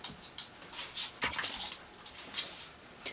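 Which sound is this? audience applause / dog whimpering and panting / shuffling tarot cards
dog whimpering and panting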